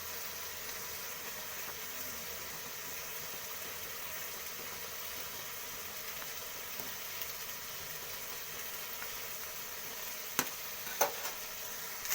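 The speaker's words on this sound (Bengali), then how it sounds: "এরপর এটাকে আমি আস্তে করে ভেজে নেব হালকা করে।" Vegetables for chow mein frying lightly in oil with a little salt, a steady soft sizzle running throughout, with a couple of sharp clinks near the end.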